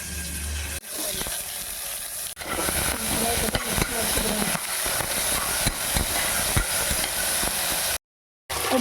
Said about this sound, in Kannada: ನೋಡಿ ಇವಾಗ ಕುಕ್ಕರಲ್ಲಿ ತರಕಾರಿ ಎಲ್ಲ ಹುರಿಯೋಕ್ಕಿಟ್ಟಿದ್ದೀನಿ.